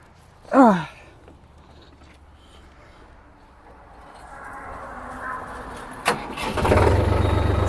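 A three-cylinder Solis 50 RX tractor diesel engine with a Bosch pump cranks and catches without glow plugs, then settles into a rough low rumble that grows steadier toward the end, after a brief squeaky sound at the start.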